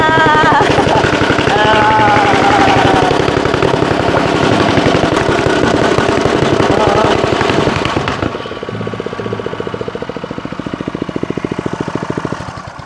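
A tamping rammer's small engine sputters and rattles loudly in rapid, steady pulses, dropping to a rougher, quieter chugging partway through.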